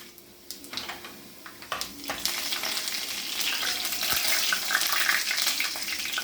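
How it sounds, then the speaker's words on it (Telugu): Mustard seeds, cumin and urad dal dropped into hot oil, a few soft knocks followed by a swelling, steady crackling sizzle that stays loud to the end. "నూనె వేడెక్కింది. ఆవాలు, జీలకర్ర, మినపప్పు."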